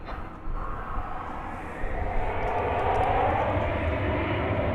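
An Envoy airliner takes off from runway 18 Left at DFW Airport, its jet engines a broad, steady roar that swells and holds at a moderate distance, with no voices.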